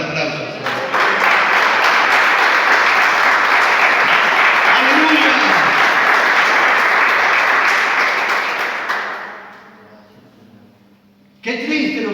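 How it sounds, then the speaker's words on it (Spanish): Loud, dense applause from a church congregation fills the space steadily for about nine seconds, then fades away, before a brief renewed burst at the end. "¿Cuánto le dan un aplauso, Señor?"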